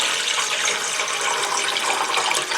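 Water pours steadily into a cooking pot in a continuous hissing, splashing stream, close and even throughout, with no talking.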